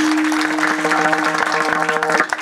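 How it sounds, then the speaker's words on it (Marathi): A crowd at a kirtan for a saint's death anniversary gathering claps in sustained applause over a steady droning instrument tone, the clapping close and fairly loud before trailing off at the end. "त्यांच्यासाठी एकदा जोरदार टाळी वाजवा"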